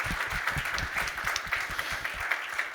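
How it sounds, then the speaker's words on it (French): An audience applauds six performers after a short skit, a steady, fairly close round of many hands clapping that holds evenly for the whole stretch. "On vous applaudit de nouveau tous les 6."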